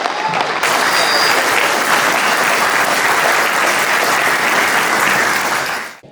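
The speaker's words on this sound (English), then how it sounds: "And give yourselves a round of applause." Crowd at a political fundraiser for a Congressional campaign bursts into loud, sustained applause, a dense roar of clapping that starts abruptly, holds at full strength, then drops away in the final moment.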